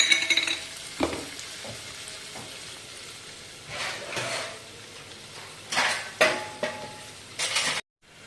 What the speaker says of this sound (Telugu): కరివేపాకు వేస్తున్నాను.